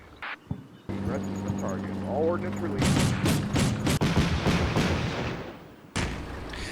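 An LAV's autocannon fires on a fleeing ATGM team in Combat Mission Shock Force 2, a dense stream of rapid shots and blasts following a low engine drone, with a brief pause near the end before fire resumes.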